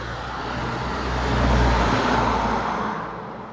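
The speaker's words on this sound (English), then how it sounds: "There seems to be an awful lot of cars going by" Steady road traffic swelling as a car passes at moderate distance, a broad low rumble rising to a peak midway then easing off, with no voices.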